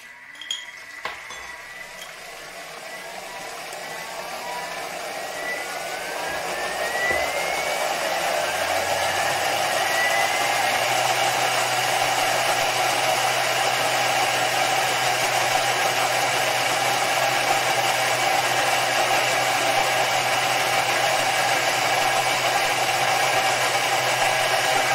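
A Thermomix blender runs at speed 10 on condensed milk, a loud steady whirring drone that starts quietly, ramps up over the first seconds and then holds constant until the end.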